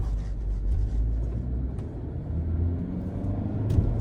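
A manual car pulls away in first gear as the clutch is let out, its engine a low, steady rumble heard close but fairly quiet, with a faint rise in pitch as it picks up.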